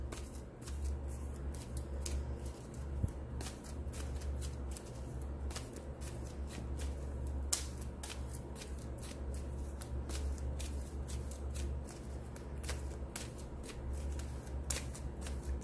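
Playing cards are shuffled repeatedly during a French astrology tarot reading, giving a steady run of soft riffling and flicking at close range over a low background hum, with no talking.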